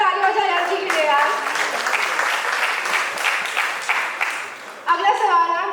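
Loud, sustained applause from a live studio audience at a celebration of the Indian TV sitcom Taarak Mehta Ka Ooltah Chashmah's 17th anniversary, continuous clapping for several seconds with speech over its start and end.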